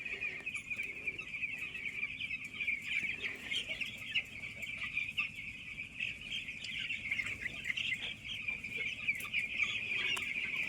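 Many ten-day-old chickens on a poultry farm cluck and chatter together in a dense, continuous flock noise, with faint low rumbling underneath.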